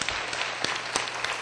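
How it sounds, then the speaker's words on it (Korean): A church congregation at a Sunday service claps together in encouragement, a dense, continuous round of applause filling the hall with no break. "다 같이 한번 격려의 박수 하겠습니다"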